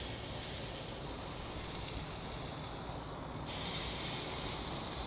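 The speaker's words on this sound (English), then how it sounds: "put down just a little bit of that chili oil on the surface of the grill. And then we'll lay our halibut right on top of it" Halibut laid on a hot griddle brushed with chili oil gives a steady, close hiss that suddenly brightens and swells partway through as the fish hits the surface.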